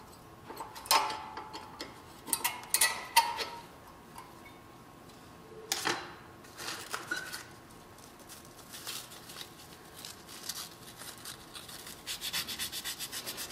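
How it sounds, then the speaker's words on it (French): Sandpaper rubbed by hand over small metal brake pad support brackets from a car's front brakes, heard as irregular bursts of scratchy rasping between quiet gaps, closer and denser toward the end. "on va nettoyer à l'aide de papier sablé les petits supports de plaquettes"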